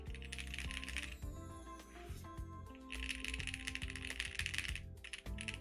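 Typing on a soft-feeling computer keyboard, rapid clacking keystrokes in dense bursts with brief pauses, close and clear, with no talking.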